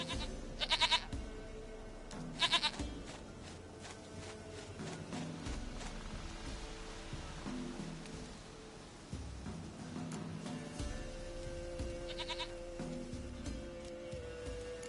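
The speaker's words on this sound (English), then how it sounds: "Goat of mine, dearest, sweetest goat." A goat bleats in The Witcher 3, giving three short nasal cries spread apart over a low, steady game ambience, each call clear and close with no talking.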